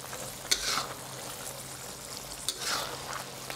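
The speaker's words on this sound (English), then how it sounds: "Then we'll mix in the slurry and let it thicken the sauce." Cornstarch slurry stirred into simmering mapo tofu sauce in a pan, soft scraping stirs with gentle bubbling and sizzle, two clearer strokes a couple of seconds apart, quiet and close.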